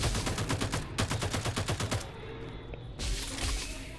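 Rapid bursts of automatic gunfire from the Farlight 84 battle-royale game, loud and close, pausing for about a second and then resuming in repeated volleys, with no talk.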